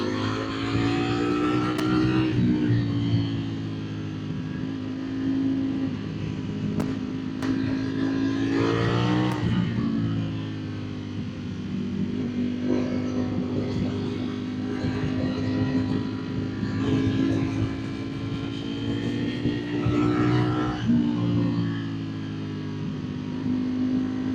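2025 Ducati Streetfighter V4 motorcycle on a test run along a dry road, steady engine drone with several sharp revving surges, near and loud throughout.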